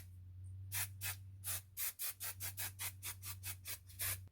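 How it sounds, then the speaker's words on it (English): Chi Enviro 54 hairspray is misted onto hair extensions in a run of short, close hissing bursts, about a dozen quick sprays in an uneven rhythm over a low steady hum. "I'm just going in with a light spray. This is the Chi Enviro 54 hairspray."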